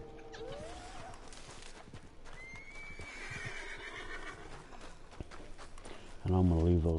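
A horse in the Western video game Red Dead Online gives a long whinny, with clip-clop hooves and ambient game sound, ending in a louder burst of voice or game sound.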